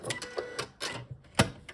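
Sewing machine stitching forward on linen just after a backstitch; quiet, short bursts of mechanical whirring and ticking in an uneven rhythm over a couple of seconds.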